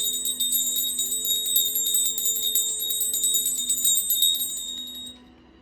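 A bell rung to clear energies gives off a bright, sustained metallic ring with shimmering overtones and faint repeated pulses, holding steady before it is cut off near the end.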